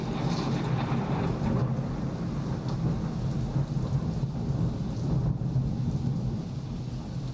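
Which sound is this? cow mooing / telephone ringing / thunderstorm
thunderstorm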